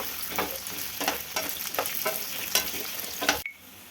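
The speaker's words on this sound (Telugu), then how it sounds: "బెండకాయ ముక్కలు వేసుకున్నానండి నేను హాఫ్ కిలో బెండకాయలు అండి వేసుకొని ఫ్రై చేసుకోండి" Half a kilo of cut okra fries in hot oil, a steady close sizzle with rhythmic scraping stir strokes every half second or so, ending abruptly into near silence, with no talking.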